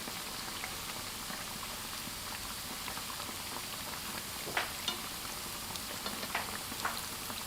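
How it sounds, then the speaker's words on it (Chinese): Sugar-coated dough fritters made from flour and eggs deep-frying in oil over medium heat give a dense, steady sizzle with occasional small pops and crackles throughout. "记住全程一定要中火慢炸，全程要不断的翻面。"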